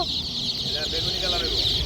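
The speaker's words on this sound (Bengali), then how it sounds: "আর এটা হচ্ছে লেয়ার মুরগির বাচ্চা" Layer chicken chicks peep continuously in a busy, high-pitched chorus, close by, with a low murmur of voices beneath.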